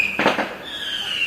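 Fireworks go off outside in two quick muffled bangs close together, followed by a faint whistling tone, with no talking during the bursts.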